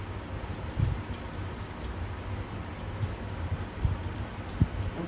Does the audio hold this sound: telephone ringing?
no